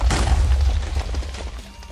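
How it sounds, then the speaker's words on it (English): Minecraft TNT detonating in a cluster, a deep booming blast with crackling debris that rumbles on and fades over about two seconds. "Do the same, but explode all four corners."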